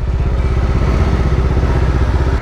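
An Apache RR 310 motorcycle engine runs loud and close, with a steady, throbbing, pulsing rumble that holds without a break, and no voices are heard.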